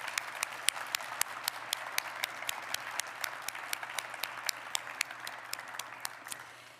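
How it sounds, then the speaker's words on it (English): A luncheon audience applauds at a business-college lecture event, a steady dense patter of many hands clapping for about seven seconds before tapering slightly at the end, with no voices over it. "Please join me in a round of applause."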